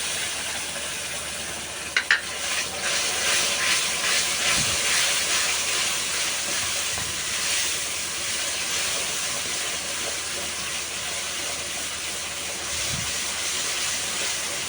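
Pureed tomatoes poured over turmeric and spices in hot oil sizzle steadily for a Tamil fish curry, a continuous hissing that stays even throughout, with a couple of faint knocks and no talking.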